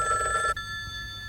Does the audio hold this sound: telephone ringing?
yes